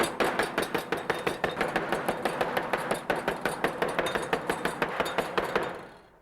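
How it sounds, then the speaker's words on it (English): A meat mallet pounds repeatedly on veal, about forty quick, even thuds in a steady rhythm, loud and close, trailing off at the end. "Taking a meat mallet, I'll tenderize the meat by hitting it with a hammer"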